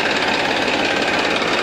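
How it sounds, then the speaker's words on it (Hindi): A Massey Ferguson 241 DI diesel tractor runs at steady idle close by, its engine a loud, even, rapid knocking chug with no pauses throughout. "इंजन बहुत बढ़िया जवाब दे रहा है"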